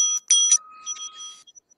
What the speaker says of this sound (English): At the end of the 4th minute, the bell will be rung twice